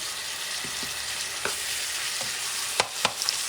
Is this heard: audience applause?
no